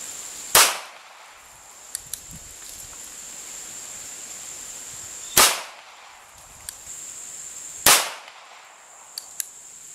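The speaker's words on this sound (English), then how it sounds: "I'm going to take some controlled shots to see how accurately I can aim this small gun" A North American Arms .22 Magnum mini revolver fires three spaced single shots, each a sharp, loud crack with a short decaying tail, over a steady high outdoor hiss and faint rustling.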